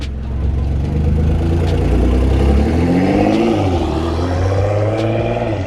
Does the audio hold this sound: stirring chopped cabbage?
no